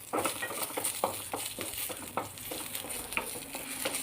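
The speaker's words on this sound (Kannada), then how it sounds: "ನೆಕ್ಸ್ಟು ಈರುಳ್ಳಿ ಹಾಕೊಳ್ಳೋಣ." Onions fry in a pan for a mango ginger thumbuli, giving a soft steady sizzle with repeated light scrapes and taps from stirring, close but fairly quiet.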